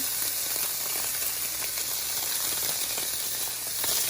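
Thin vegetable slices frying in olive oil in a pan, with bacon cooking alongside: a steady, close, moderately quiet sizzling hiss with small crackles throughout, no talk.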